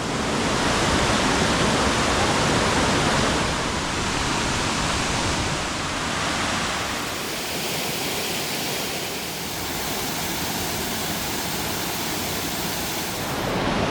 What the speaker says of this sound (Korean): 폭포 소리가 귀를 씻어주는 것 같아